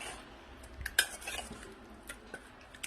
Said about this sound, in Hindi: इन तमाम चीज़ों को मैं मिक्स करूँगी